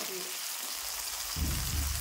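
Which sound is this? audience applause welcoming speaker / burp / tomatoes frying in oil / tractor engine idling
tomatoes frying in oil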